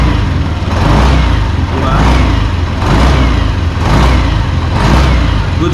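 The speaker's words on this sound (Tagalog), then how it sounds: "Rev ko ng konti guys, huwag kayo magalit." Yamaha NMAX 155 V2 scooter engine revved close up in several rhythmic surges, loud and steady, with a brief spoken word over it.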